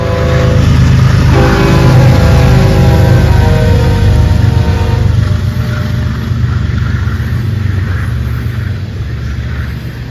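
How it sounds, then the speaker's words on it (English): A BNSF grain train on a model railroad passes on the main line, loud and continuous, with a horn-like tonal sound early on that gives way to steady rumbling rolling noise. "We'll wait for this train to pass on the main line before departing the siding."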